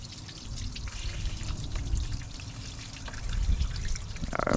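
Water flowing out while flushing the heater core of a BMW 3 Series E9x, a steady trickling pour with low gurgling splashes that builds slightly toward the end, close by with no talk.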